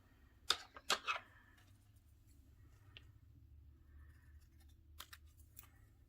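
Scissors snip a letter out of paper in a few quick, crisp cuts close by, followed by quiet rustling and another pair of short snips in a quiet room.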